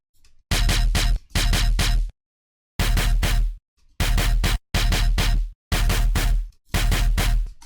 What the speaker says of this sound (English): You could add some more noise by adding erosion.